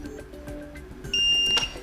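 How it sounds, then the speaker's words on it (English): A Xiaomi Smart Standing Fan 2 Pro gives a long electronic beep, a sustained tone appearing partway through after fainter short clicks and tones, fairly close and clear. "press and hold on schedule and oscillation button for 7 seconds until you hear a long beep"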